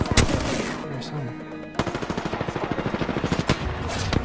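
Rapid automatic gunfire in the Apex Legends battle royale game, a dense run of loud repeated shots with a burst and a pause before a steady stream of rounds.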